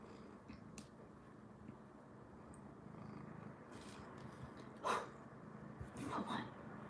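A pet cat named Mitty purring close by, a low steady rumble under quiet room noise, with a few soft rustles and brief breathy bursts near the end.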